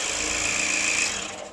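A steady high-pitched mechanical whine with a rapid buzzing rhythm, like a scroll saw blade cutting wood, close and continuous before fading slightly at the end.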